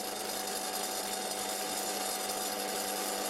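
An antique Karger metal lathe runs continuously, a steady broadband mechanical whir with a constant hum and slight chatter, close and even throughout with no talk.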